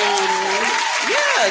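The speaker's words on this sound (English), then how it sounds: "Round of applause for me" Audience applause as a crowd claps steadily and loudly throughout, with voices calling out over the clapping.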